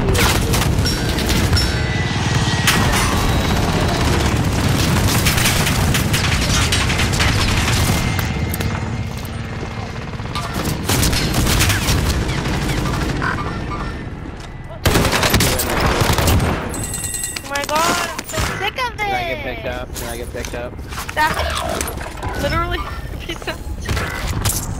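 SMG gunfire in a video game, with rapid loud bursts and explosive booms in close succession, dense at first and thinning later, while players talk over the action.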